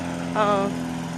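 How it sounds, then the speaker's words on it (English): A nearby lawnmower engine drones steadily with a bright harmonic whine, rising briefly louder for a moment before settling back to a constant hum. "let me try to get past this lawnmower"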